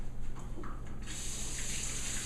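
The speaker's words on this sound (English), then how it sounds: "Just give this a little rinse." Running tap water gushes steadily into a kitchen sink while a cucumber is rinsed under it, a close, even hiss that swells fuller after the first second.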